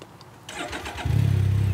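A motorcycle engine being shifted into reverse: brief mechanical clicks and rustle, then the engine catches at about one second and settles into a steady, loud, close idle.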